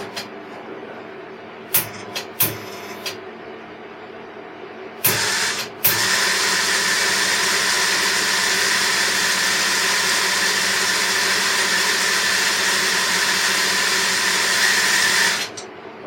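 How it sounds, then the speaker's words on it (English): A MIG welder switched on and run to feed a 6–8mm-matched wire through the torch with the tip removed, giving a steady whirring motor drone after a few short clicks and bumps, continuous for about ten seconds before cutting off. "Okay, so that's the wire fed through."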